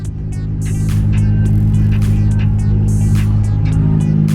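A Nissan R32 GTR engine idles steadily at 1,000 RPM nearby with a low, even rumble, while a few light clicks and rustles are heard over it.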